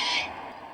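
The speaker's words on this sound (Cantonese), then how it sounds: "葵花鳳頭鸚鵡會喺度唱歌。" A sulphur-crested cockatoo gives a single harsh, raspy squawk, brief and fairly close, fading quickly within a second against a quiet background.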